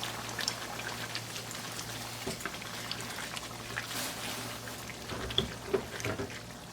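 Mutton stock pours into a pot of Kashmiri goshtaba meatballs, giving a steady splashing, rain-like patter with a few sharper drips, moderately close and without talk.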